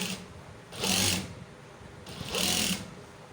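A sewing machine stitches the seam of a kameez in a tailoring class, running in two short bursts with a quiet pause between them.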